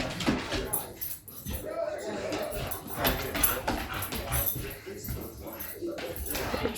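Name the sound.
dog playing tug of war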